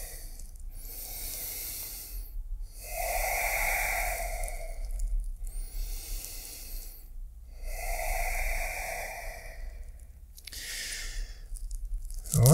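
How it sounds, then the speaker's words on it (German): Slow, deep breaths during a yoga stretch, long audible inhales and exhales alternating in a steady rhythm with short pauses between, close and breathy, without any talk. "Tief atmen."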